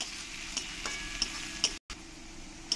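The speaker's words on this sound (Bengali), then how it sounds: "কারি পাতাগুলো দিয়ে পেঁয়াজের সঙ্গে ভালো করে লাল লাল করে আমি ভেজে নেব।" Onions and curry leaves fry in oil in a pan for a rohu fish curry, a soft continuous sizzle with a few light stirring clicks and taps, no voices.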